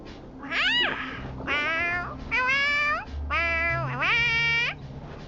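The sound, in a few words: cat-like meowing of a little life form in Honkai: Star Rail video game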